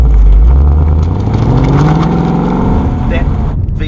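A Ford Mustang GT's 4,951 cc double overhead cam V8, with aluminium heads and a manual transmission, revs loudly up through a rising pitch sweep, then eases back to a deep burble on a tight road.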